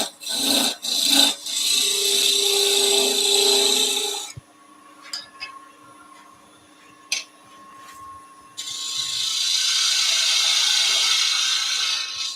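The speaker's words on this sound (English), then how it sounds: "I'm just skew cutting with the bowl gouge now" A bowl gouge makes skew cuts on wood spinning on a lathe while thimbles are turned, giving a close, steady rasping hiss in two long passes separated by a quieter stretch of the lathe's hum and light taps.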